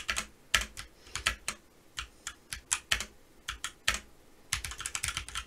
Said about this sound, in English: So this is a little bit louder than my other keyboard.